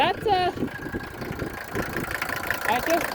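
A 1976 Mercedes 300D diesel engine idling with a low, steady rumble, heard beneath someone talking over it throughout.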